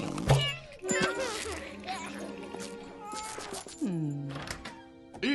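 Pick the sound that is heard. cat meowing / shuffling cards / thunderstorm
cat meowing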